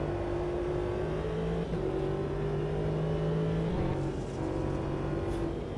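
A race car in the Automobilista 2 racing sim whirs past with a steady engine drone and shifting pitch that drops as it goes by, close and continuous with no talk.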